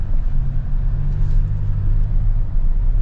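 Toyota Tacoma TRD Pro creeping extra slowly over rocks, a steady low engine and tire rumble filling the whole stretch at moderate, even loudness with no voices.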